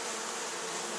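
A honeybee swarm being moved into a top bar hive buzzes in a dense, steady, close drone with no voices.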